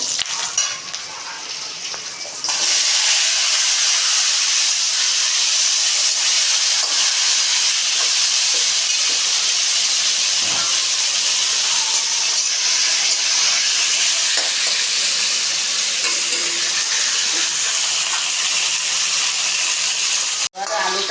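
Loud, steady sizzling of potatoes frying in hot oil with panch phoron and bay leaf, with a sharp burst at the start that settles into a continuous hiss, plus faint occasional stirring.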